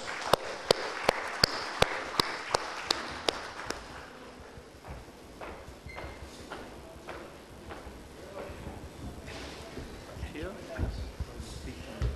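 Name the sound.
audience applause for a speaker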